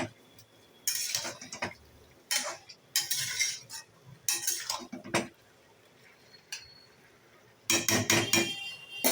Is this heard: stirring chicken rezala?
yes